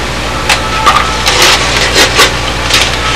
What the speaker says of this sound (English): we're about ready to carve and sand this